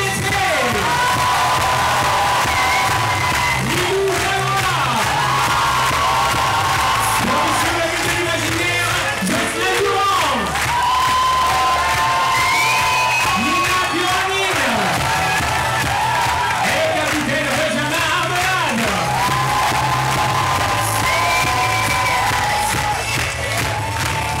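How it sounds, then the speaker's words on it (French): An improv match audience cheers and applauds as competing teams are welcomed: a loud, continuous roar of clapping, whoops and high shouts from a large crowd, sustained throughout and peaking in bursts of excited yelling. "Je vous demande de les accueillir sous un tonnerre d'applaudissements."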